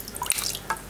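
A metal detector housing, a Kvazar F3, dipped into a container of water during a waterproofing test, giving short close drips and splashes with a brief bright trickle, no talking.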